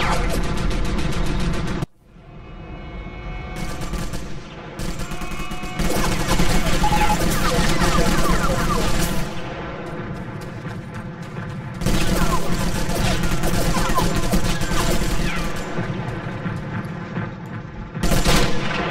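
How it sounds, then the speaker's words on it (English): An anti-aircraft gun pounds away in the war shooter Sniper Elite, rapid loud bursts of gunfire with short gaps between volleys, close and dominating. "Russians are being pinned down by that AA gun's fire"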